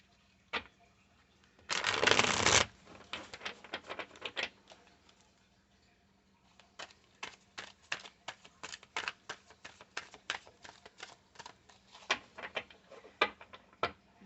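A deck of Wonderland Tarot cards is shuffled close by: one dense rush of riffling, then a long run of sharp, irregular card taps and flicks in a quiet room.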